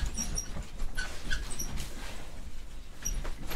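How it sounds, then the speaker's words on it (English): A puppy whimpers in high, thin cries over a steady low background rumble, impatient to be taken outside to pee. "I gotta go take the impatient puppy out"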